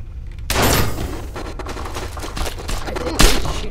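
Gunfire in People Playground, a loud burst of rapid shots that opens sharply, rattles on in a dense stream and ends with one more heavy blast near the close, with no talk.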